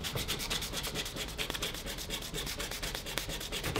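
Body filler is being sanded by hand with 100-grit paper on the duck bill spoiler of a Nissan 350Z, producing a steady, close, rapid back-and-forth rasping scrape that continues without pause and with no talking.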